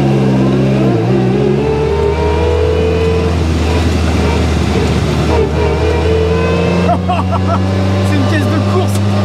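Race car engine idling and revving with a deep rumbling drone and swelling pitch, loud and close, a voice talking over it.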